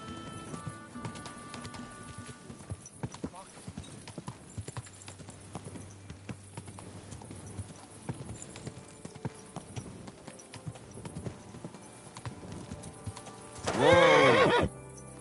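Steady clip-clop of horse hooves trotting in the video game Kingdom Come: Deliverance II, then a loud, high whinny near the end, clearly foregrounded.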